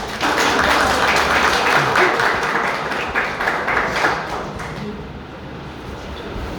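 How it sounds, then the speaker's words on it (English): A seminar audience welcomes a speaker with a round of applause, loud clapping at first that gradually thins and fades out toward the end. "Let's welcome him with a big round of applause."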